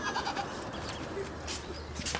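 A goat bleats a few short times amid outdoor background noise, with some scattered higher rustling sounds; fairly faint and close.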